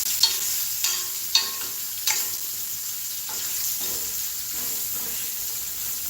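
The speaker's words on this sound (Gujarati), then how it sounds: "મીઠા લીમડાના પાન પણ આપણે અત્યારે જ એડ કરશું મિક્સ કરી લેશું" Curry leaves frying in a pan for poha as they are stirred, with a soft sizzle broken by several sharp spatters and scrapes early on, then a steadier, quieter hiss.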